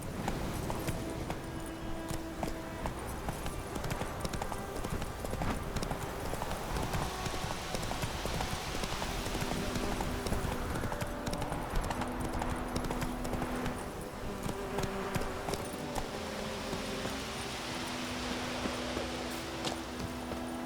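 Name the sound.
horse galloping hooves in The Witcher 3 video game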